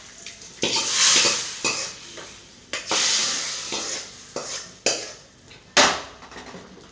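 Sambar tempering sizzles in a pan on a home kitchen stove, with a series of sharp clattering bursts from stirring and utensils that each fade out, close and fairly loud.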